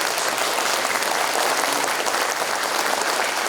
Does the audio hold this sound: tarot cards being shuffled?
no